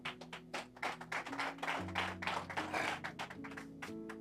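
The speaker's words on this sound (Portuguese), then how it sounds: "Dá um aplauso ao Senhor." A church congregation applauds in quick, rhythmic claps over sustained music tones, close and steady for about four seconds with no talking.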